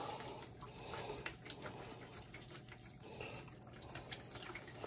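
Engine coolant drains from a car radiator in a faint, steady trickle and patter of liquid, heard alone at low level.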